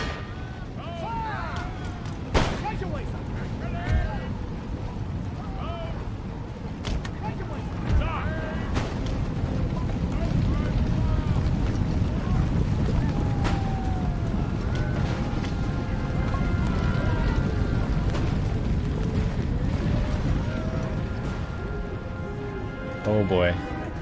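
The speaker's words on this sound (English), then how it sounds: "That is some nasty canister shot." Cannon fire from artillery in Empire: Total War, the guns blasting canister shot in a steady run of booms over dense battle noise and rumble, with a commentator's voice talking throughout.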